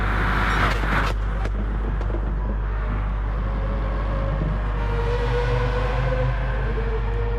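Volvo 850 race car engine in a sim racing game, a steady loud drone holding throughout with a pitch rising gradually toward the end, a few brief clicks near the start.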